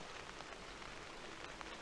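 Steady rain falling outdoors on a property with oak trees, a dense even hiss of drops on surfaces, continuous and moderately quiet with no other sounds.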